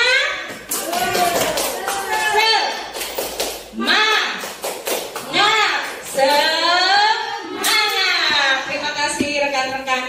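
A group of schoolchildren and adults chants the rhythmic 'tepuk semangat' clapping routine, sharp hand claps in quick patterned bursts mixed with sung call-and-response voices, close and lively throughout.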